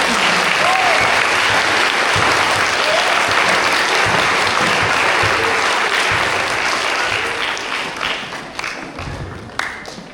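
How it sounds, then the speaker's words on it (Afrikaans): A school assembly audience for grades 1 to 3 applauds in a hall, with loud sustained clapping from many hands that tapers off with a few last claps near the end. "Ons klap vir allemaal."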